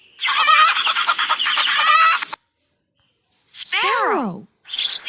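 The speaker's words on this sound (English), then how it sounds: "Hen." A hen lets out a long, loud burst of raspy cackling clucks up close, then after a pause gives a shorter squawk and begins another call.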